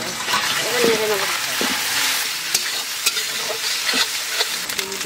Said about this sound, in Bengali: লঙ্কা বাটা দিয়ে দিলাম, রসুন বাটা দিয়ে দিলাম, আদা বাটা দিয়ে দিলাম। এবার নেড়ে নেব